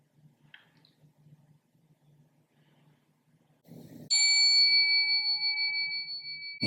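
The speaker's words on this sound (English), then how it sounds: "Was that you that just set the bell off?" A small bell rings out sharply in a quiet prison room after faint low murmuring, its bright tone holding and slowly fading with a gentle pulsing decay.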